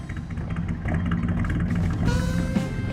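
Classic Chevy stepside truck engine running at moderate volume, a steady mid-range engine note with a slight rise in level partway through and a faint tonal whine near the end.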